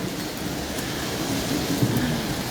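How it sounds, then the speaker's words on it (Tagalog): Heavy rain pouring at a small roadside shop, a dense continuous roar of rainfall with a low rumble beneath and no voices. "Ay, alakas ng ulan."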